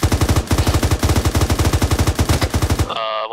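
Sustained rapid automatic gunfire in the video game ARMA 3, loud and close, with steady rhythmic shots hammering for nearly three seconds before cutting off into a short tonal ringing tail.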